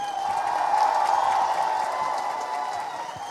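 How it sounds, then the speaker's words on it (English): A crowd gives sustained, fairly distant applause with faint cheering at the opening function of the Hornbill Festival in Nagaland, a steady wash of clapping holding through the moment. "Please give the young people of Nagaland a hearty round of applause"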